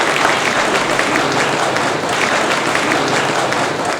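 An audience claps loudly and continuously after a young boy's stage speech, a dense, steady wash of applause from many hands with no pause.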